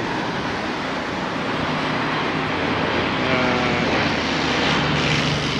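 A loud, steady roar of an airplane flying overhead in Wellington, broad and rushing, swelling slightly as it passes, with no voices.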